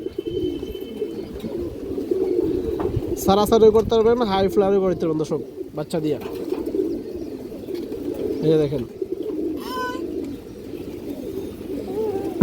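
Pet pigeons of fancy breeds coo in low, throaty repeated calls close by, while someone talks nearly continuously over them and a few higher chirps cut through.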